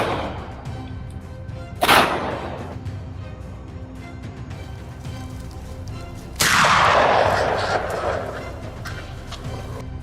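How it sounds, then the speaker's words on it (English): Two sharp gunshot blasts at wild hogs on a Louisiana farm, one brief crack early and a louder, longer report later that rings and decays over a steady outdoor background. "I had to pull the trigger a third, even a fourth time before finally taking one down"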